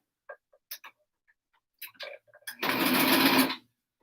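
A sewing machine runs in one steady burst of just under a second, stitching a seam in fabric with white thread, after a few faint scattered clicks and small handling sounds.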